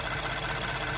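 A Ford F-150 engine idles with a fast, even ticking from the valvetrain, a close and steady mechanical chatter over a dense engine hum, with no voices.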